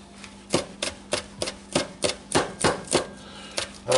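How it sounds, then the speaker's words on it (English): Green onions are diced finely with a knife on a board: a steady series of about a dozen sharp, close chopping taps at an even rhythm, with no talking. "I want them all diced up real fine"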